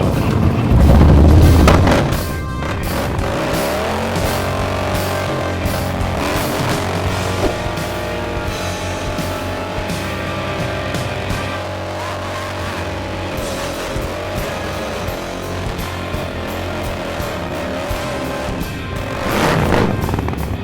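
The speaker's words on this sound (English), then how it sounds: "every bike I do a burnout on before I tear it all down" Motorcycle burnout before a teardown: the engine is held at a high, sustained revving drone with a loud burst at the start and another swell at the end, and no talk.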